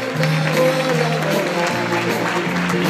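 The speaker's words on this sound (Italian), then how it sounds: "E adesso, caloroso applauso per il team Amica Roma." Warm applause for team Amica Roma at a Special Olympics convention, steady crowd clapping under sustained tonal music or hum, with no clear speech.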